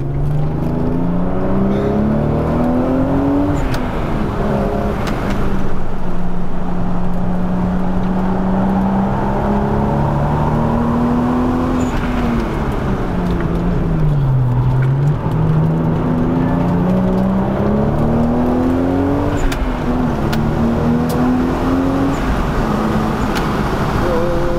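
Toyota Supra MK4 bi-turbo accelerating hard from inside the cabin, the engine note climbing and dropping through gear changes over a steady loud drone, with faint passenger talk underneath.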